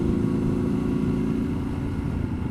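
A Triumph Scrambler 1200 XE motorcycle with its dB killers removed drones out a loud, steady exhaust note close by, deep and throaty without a break.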